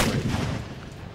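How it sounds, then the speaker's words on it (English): Artillery fire in the Darthmod Empire strategy game, a loud rumbling cannon blast that fades into a low, sustained roar with scattered booms over about a second. "They have a crap load of artillery."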